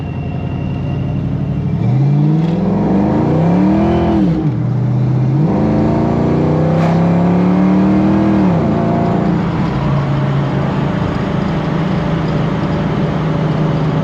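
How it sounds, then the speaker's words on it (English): A car revving up through the gears from inside, the engine note climbing and dropping with each shift, loud and close, then settling into a steady drone. "let's run her through the gears."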